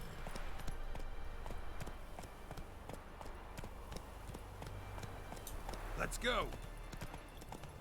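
Horse hooves clip-clopping in The Witcher 3 video game, a quick rhythmic patter of steps under a short spoken line, with a brief whinny-like sound near the end.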